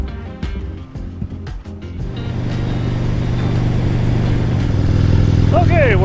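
A motorcycle pulls away onto the road near Cochrane, Alberta, its engine building from a few sharp clicks and low rumble into a steady, loud drone.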